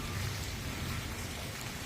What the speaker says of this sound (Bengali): আজকে প্রচুর জল বৃষ্টি হলো